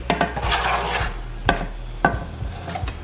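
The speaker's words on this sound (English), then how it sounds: "So to this butter, I'm gonna go ahead and add that sausage" Sausage goes into melted butter in a pot, with a soft sizzle under several sharp metallic clacks and scrapes of a spoon against the pot, close by.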